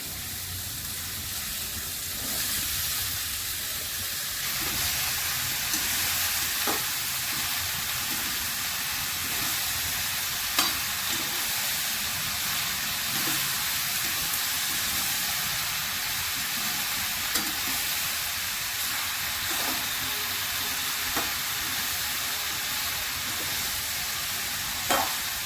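Ash gourd fries with green chillies in a hot pan, a steady sizzling hiss running throughout with occasional faint clinks of a spoon stirring, no voices.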